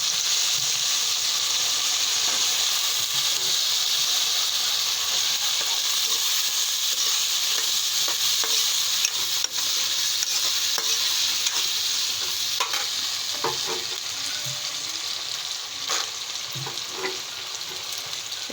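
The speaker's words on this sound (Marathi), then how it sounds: "याच्यात टाकू आपण आपले वांगे आणि सगळं व्हेज भाजी." Eggplant, potato and field beans frying in a pan while being stirred, producing a steady, close sizzling hiss with scraping stir noises throughout and no voices.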